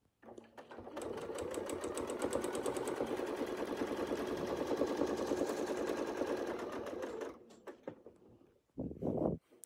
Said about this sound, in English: I'm going to sew around to the next crosshair line right there